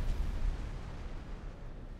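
Explosions in the space combat game X4: Foundations give a deep rumbling boom at the start that rolls on and slowly fades, with smaller bursts under it.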